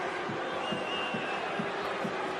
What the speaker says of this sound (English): the crowd can chant VAR